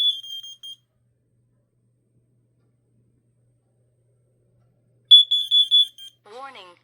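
A carbon monoxide smoke alarm sounds during a system test, sharp high electronic beeps in short bursts separated by a long silence, followed by a brief spoken voice.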